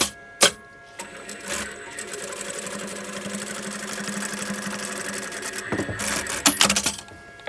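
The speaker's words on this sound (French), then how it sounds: "je vais coudre sur la marcation, hein, tout simplement" A sewing machine stitches rag doll clothes along a marked line, running in a fast, even whirring buzz for several seconds, framed by a few sharp clicks and knocks at the start and end, heard close and alone.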